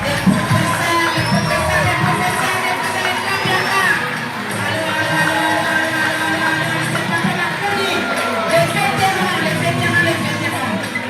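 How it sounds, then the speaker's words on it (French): At a school cultural day, a lively crowd cheers and shouts, with children's voices prominent. The noisy babble and clapping hold steady for about eleven seconds and briefly dip midway. "Applaudissez Papa Makouni, les professeurs"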